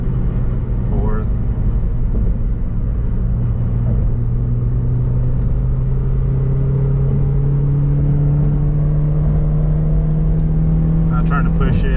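Toyota Matrix on a gentle test drive after a CV axle replacement, a steady engine drone rising slowly in pitch as it accelerates, with road rumble underneath and a brief clatter near the end.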